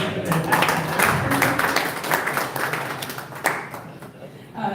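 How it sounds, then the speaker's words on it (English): Audience applause at a government validation event, a few seconds of scattered hand clapping in a room that tapers off toward the end, with some speech-like sounds mixed in. "another round of applause for everything"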